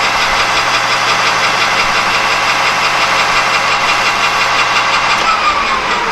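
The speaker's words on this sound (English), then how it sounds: "Now what I'm going to do is I'm going to knurl." Metal lathe knurling the outer diameter of a part: a loud, steady mechanical drone with a low hum and a rough, grinding texture, continuous throughout, changing slightly near the end.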